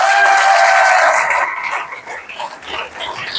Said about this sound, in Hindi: तालियां बनती हैं इस बात पे, देख लेना।